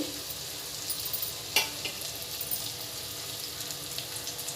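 Onions, tomatoes and ginger garlic paste frying in a pan with drumstick pieces for an egg and prawn curry, giving a steady close sizzle with stirring scrapes and one sharp clink partway through.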